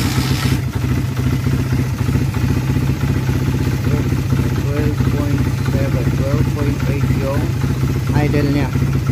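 Car engine fitted with an AEM wideband sensor, running at a steady idle with a constant low hum and light clatter, while someone speaks over it now and then.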